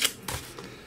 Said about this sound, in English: if it's a skinnier spot, you just tear off a little piece like that